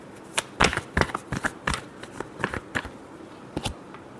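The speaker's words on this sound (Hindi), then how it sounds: "Last shuffle." Tarot cards are shuffled by hand in a series of sharp, crisp riffles and slaps, irregularly spaced and close, with short quiet gaps between each burst.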